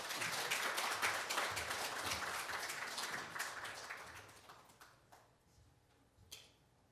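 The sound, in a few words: congregation applauding to welcome the pastor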